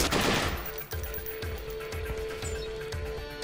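Rapid gunfire bursts from a Watch Dogs shootout, sharp repeated shots crackling loudly over a busy in-game soundscape for several seconds, with no talk.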